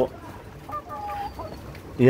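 Hili and local deshi chickens on a farm give a few short, soft clucks over about two seconds, with a voice talking over them.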